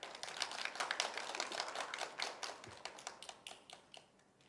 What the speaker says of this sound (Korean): 그럼 큰 박수로 맞이해 주시기 바랍니다.